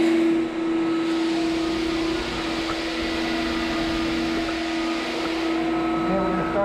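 Floor sander running steadily over an old hardwood floor, stripping the old finish with a loud, continuous motor drone and grinding hiss that hold level throughout.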